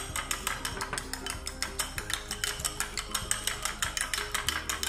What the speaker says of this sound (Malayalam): ഉപ്പും കുരുമുളകും ഇട്ടതിന് ശേഷം നന്നായിട്ടൊന്ന് സ്പൂൺ വെച്ച് ബീറ്റ് ചെയ്യാം.